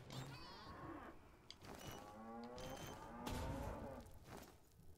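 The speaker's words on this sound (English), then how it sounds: "It's a goddamn bull. No, it's a cow." A cow in Worms: Battlegrounds lets out a drawn-out, low moo amid game noise, with someone talking over parts of it.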